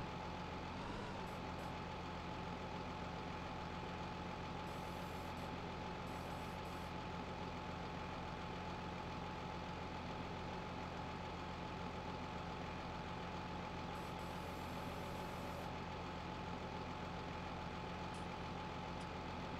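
A tractor engine in Farming Simulator 19 runs at a steady, low idle-like drone, constant and unbroken, with no one talking.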